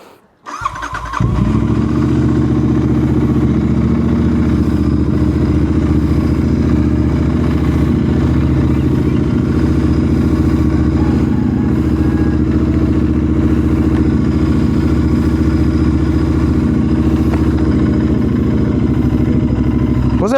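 A motorcycle just out of a garage starts up and runs steadily. The engine is close and loud, a constant rumbling drone with no pause.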